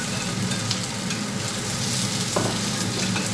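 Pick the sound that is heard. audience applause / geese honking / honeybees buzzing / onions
onions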